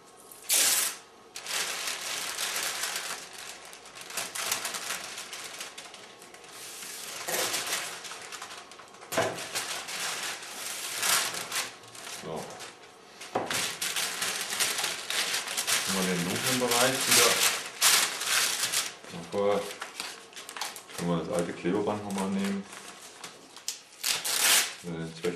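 Masking tape and paper being applied to a car panel during a spot repair, with continuous crinkling, tearing and tape-pulling noises, loud and close, with a few brief rattling bursts.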